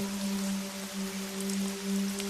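Rain falls steadily on a dark, stormy night as a horror story effect. It makes a soft, even hiss at moderate distance, with a low steady hum running underneath and no voices.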